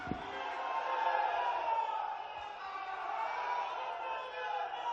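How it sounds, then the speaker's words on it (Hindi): Crowd applause and cheering welcoming Amit Shah at a farmers' conference in Rewa, loud and sustained for the full stretch with a dense, steady roar of many hands and voices. "जोरदार तालियों के साथ अभिनंदन करें आदरणीय श्री अमित"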